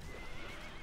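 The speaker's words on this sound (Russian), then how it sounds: "Ну, конь, понятное дело." A horse neighs in the fantasy strategy video game Battle for Middle-earth II, a brief, quiet whinny over a faint busy game background.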